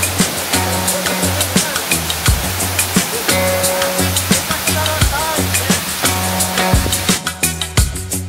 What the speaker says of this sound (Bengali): এই মুহূর্তে আমরা দাঁড়িয়ে আছি নকাটা ঝর্ণার সামনে